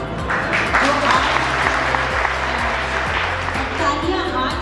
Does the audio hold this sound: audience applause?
yes